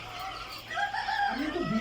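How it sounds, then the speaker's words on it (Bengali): Quail chicks feeding let out faint, rising chirps and peeps that swell toward the end, with soft rustling before them. "এই যে আমাদের কোয়েল পাখির বাচ্চাগুলা খাবার খাইতেছে"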